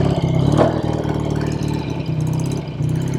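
A 1968 BSA Thunderbolt motorcycle engine runs steadily close by after starting on the first kick, a throbbing mid-pitched idle with a faint rev swell near the start, with no voices over it.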